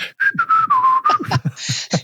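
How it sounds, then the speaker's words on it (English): A person whistles a short, wavering tone that slides gradually lower, broken up by breathy puffs of air, close and clear. "You mean whistling?"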